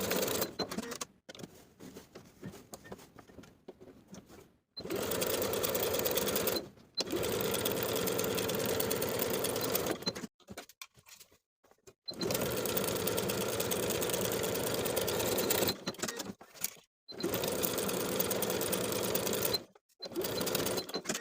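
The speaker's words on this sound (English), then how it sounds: "Finally, sew the inseam at 3/8 of an inch" A sewing machine stitches the inseam of linen shorts in several loud, steady bursts of rapid whirring, broken by short pauses of quiet.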